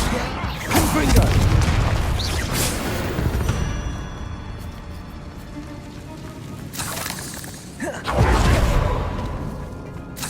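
Fiery Confringo spell blasts in the Hogwarts Legacy video game: two loud booming bursts with whooshing tails, about eight seconds apart, over a rumbling battle background with voices mixed in.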